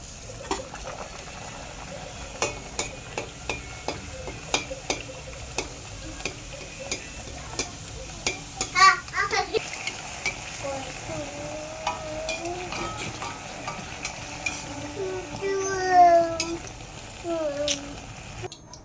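Puri dough sizzling in hot oil in a kadai, a low steady frying hiss with irregular ticks and clicks from utensils, while a person's voice sounds faintly at times.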